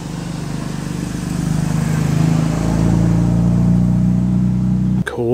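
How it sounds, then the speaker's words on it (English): Vintage Jaguar XK140 engine burbling steadily uphill at a hillclimb, a close, continuous low throb that swells slightly in the middle, ending in a brief abrupt disturbance. "XK140 burbles its way up the hill"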